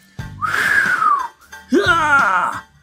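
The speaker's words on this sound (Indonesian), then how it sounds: "Didahului oleh siulan nyaring Wiro" Two loud, shrill whistles, the first a long arching tone and the second a rising, warbling call, each cut short with breathy noise around them.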